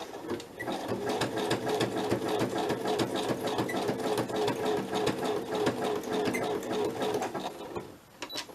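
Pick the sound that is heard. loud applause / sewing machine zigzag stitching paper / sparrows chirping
sewing machine zigzag stitching paper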